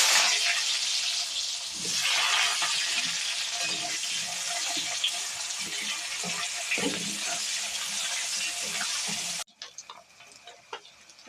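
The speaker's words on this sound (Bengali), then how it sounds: "কড়াইতে পেঁয়াজ দেবো" Onions hiss and sizzle steadily in hot oil in a kadai, a loud continuous close crackle with occasional stirring knocks, then dropping abruptly to quieter sizzling with light taps.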